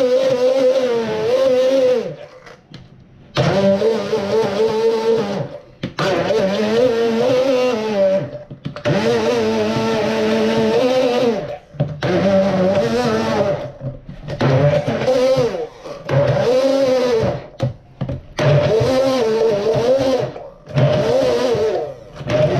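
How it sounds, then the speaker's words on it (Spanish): A kitchen blender whirs in repeated loud bursts, pulsing on and off with short pauses, as it purees black olives and anchovies into an olivada. "vamos a proceder a batirlo"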